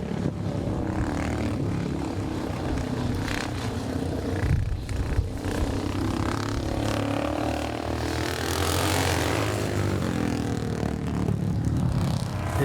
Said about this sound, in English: hearing the rasp of that exhaust as it goes down the home straight